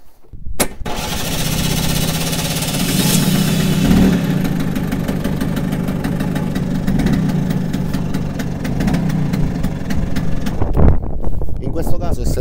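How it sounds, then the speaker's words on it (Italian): Vespa scooter engine cranked with a portable 12-volt jump starter, a brief click and then a sustained mid-pitched engine drone running steadily and close for most of the stretch, with a short bump near the end. "Accendiamo, perfetto, proviamo ad avviare la Vespa."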